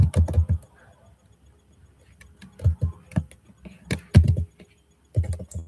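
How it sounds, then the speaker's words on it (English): Someone types on a computer keyboard up close, fast bursts of clicking keys separated by short pauses, loud and clear with no talk. "I'm just typing in the other side of this so you're not missing out on anything."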